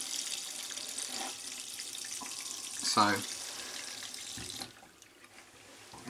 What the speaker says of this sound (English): So let's turn the tap on and put the sleeve under.